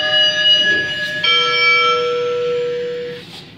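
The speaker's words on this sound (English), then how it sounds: "You just heard the loud ding, ding, ding of the gong or whatever kind of thing that is on the elevator." An elevator's floor-indicator gong in a building rings loud, sustained metallic dings, one strike followed by a second that rings on for a couple of seconds, then a faint third hit near the end.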